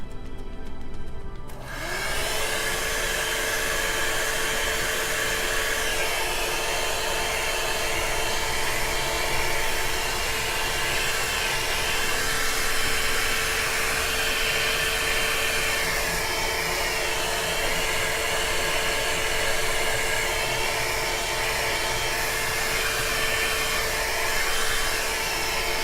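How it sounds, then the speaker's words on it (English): A hair dryer switches on and blows in a continuous loud whoosh with a steady whine, held close over an acrylic pour painting for the whole stretch. "Let me grab my blow dryer, my hair dryer,"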